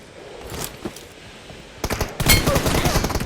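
Video game gunfire starts with scattered faint shots, then breaks into loud, rapid automatic bursts that crackle densely in the second half.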